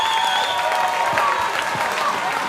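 A wrestling crowd in Houston cheers and applauds a move in a women's match, giving a sustained, moderately loud roar with a commentator's voice faintly over it.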